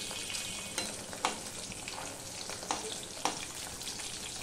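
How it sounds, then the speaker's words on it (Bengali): Katla fish frying in hot oil gives a steady broadband sizzle, close and fairly quiet, with a few sharp spits and pops rising above it and no talking. "কাতলা মাছগুলো সব ভাজা হয়ে গেছে"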